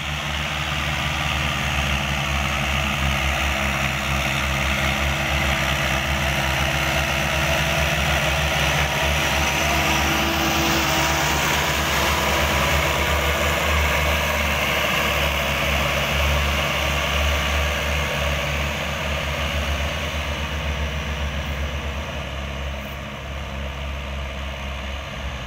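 Three heavy diesel tractors, including a Massey Ferguson 385 4x4, drive past, droning steadily and loudly for a long stretch, a low rumbling hum that eases slightly toward the end.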